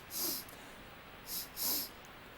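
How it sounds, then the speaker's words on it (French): Three quick nasal sniffs during a larynx examination, one short and then two close together, breathy and near, with no voices. "Renifler à nouveau."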